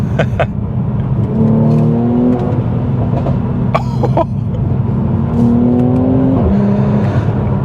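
A Mercedes C43 AMG with a performance exhaust revs through downshifts, deep engine drone rising in pitch twice with sharp pops and crackles, loud and close from inside the car.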